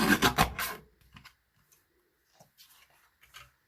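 A small paper trimmer cuts card, a short loud rasping slide at the start, followed by faint scattered clicks and handling noises.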